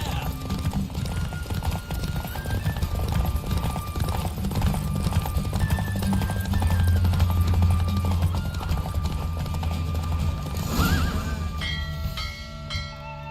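Horse galloping during a race in The Witcher 3, with a rapid, steady clip-clop of hooves, close and continuous. Music plays beneath it and brief voices break in near the end.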